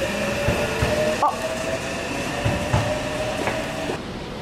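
A train departs from a station, giving rumbling, rattling carriage noise with faint rhythmic wheel clacks and a steady hum, heard from close by amid light ambient bustle.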